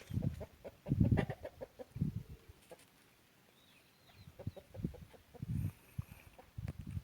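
Aseel-type fighting roosters and Peruvidai country hens on a farm, giving a string of low clucks and short calls, fairly close, coming in bursts with quieter gaps between them.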